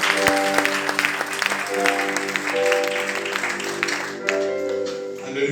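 A church congregation applauds during a service, dense continuous clapping with a held musical tone underneath, fading slightly near the end.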